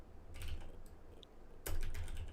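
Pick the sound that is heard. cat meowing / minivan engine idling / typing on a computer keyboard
typing on a computer keyboard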